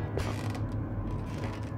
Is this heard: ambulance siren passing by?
no